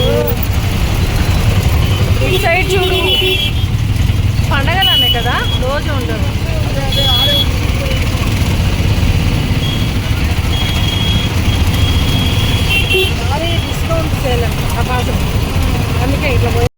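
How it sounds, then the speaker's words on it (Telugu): Heavy road traffic in Tirupati rumbles continuously with idling engines and passing vehicles, horns honking intermittently, while people talk over it nearby. "తిరుపతిలో ఎంత ట్రాఫిక్ అయిపోతా ఉందో తెలుసా"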